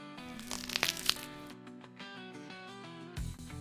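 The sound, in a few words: biting crunchy fried cheese stick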